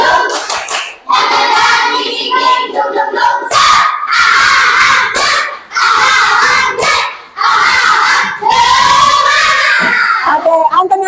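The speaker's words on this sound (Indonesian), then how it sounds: "Tepuk semangat." A class of children performs the tepuk semangat spirit chant in a classroom, shouting together in rhythmic bursts punctuated by sharp group clapping, loud and close, with brief pauses between phrases.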